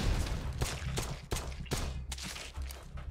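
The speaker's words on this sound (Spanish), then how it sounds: "Yo le pego todos los tiros que me quedan." Pistol fire in the zombie survival game Night of the Dead, a rapid run of sharp, loud shots with a few gaps between them, set over a steady low rumble of game background noise.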